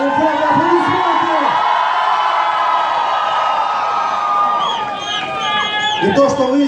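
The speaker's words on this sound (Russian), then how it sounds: "Аплодисменты!" A welcoming crowd at an airport greeting returning Olympians claps and cheers, a loud continuous roar of voices and whoops with shouting rising over the applause throughout.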